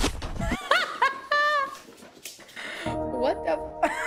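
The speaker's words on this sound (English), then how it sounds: "That's not a cat, that's a dog." A dog vocalizes in short whimpering yips and barks, close and fairly loud, mixed with excited people talking and laughing over it.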